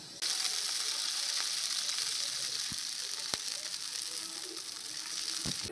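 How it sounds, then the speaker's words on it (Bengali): Eggplant and potato frying in hot oil tempered with nigella seeds, a steady close sizzle that continues throughout with a couple of faint knocks and no voices. "এই যে কালো জিরে ফোড়ন দিয়ে বেগুন আর আলুটা ভেজে নিতে হবে।"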